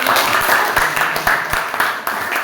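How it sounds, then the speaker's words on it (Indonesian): Schoolchildren in a classroom give a short burst of applause, dense overlapping claps close by with a few sharper individual slaps standing out. "Ya, kita kasih tepuk tangan."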